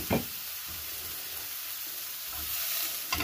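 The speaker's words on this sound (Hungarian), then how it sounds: "fel kell melegíteni a serpenyőt, de rendesen, mert pirítani kell a gombát, nem párolni" Mushrooms fry in smoking-hot oil in a pan for an onion and mushroom omelet, giving a steady close crackling sizzle with a few louder clattering stirs near the start and end.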